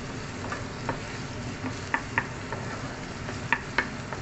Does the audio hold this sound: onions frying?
yes